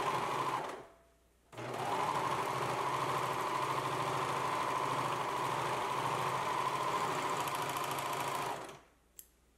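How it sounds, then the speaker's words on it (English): A serger sewing machine trims and finishes the seam edges of a bias-cut satin elastic-waist skirt, running in one steady, loud, continuous whirring burst of about seven seconds after a brief pause, then stopping. "I'm going to use my serger and just kind of serge off my seams to match the original seam."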